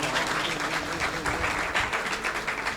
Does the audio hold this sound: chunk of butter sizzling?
no